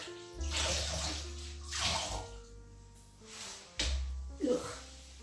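Rags cut from old t-shirts being sloshed and wrung in water, splashing and dripping close by in a few surges, with a hum running underneath.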